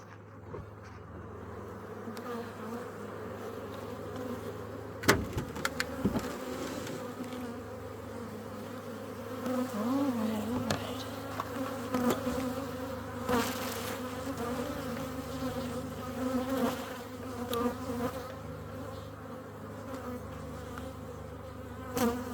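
Honeybees buzz steadily and close around an open hive as a beekeeper inspects the brood box, a dense continuous drone with occasional sharper clicks and bumps of handling.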